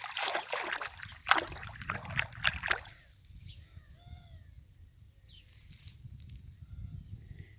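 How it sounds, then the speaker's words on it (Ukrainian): Several sharp water splashes and churning bursts as pond fish eat feed in the first few seconds, then quieter trickling and light dripping with a few faint chirps. "Вода аж кипить, як вони їдять цей корм."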